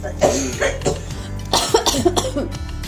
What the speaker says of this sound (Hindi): खांसी हमें हो रही है क्योंकि जैसे हवा चलती है ना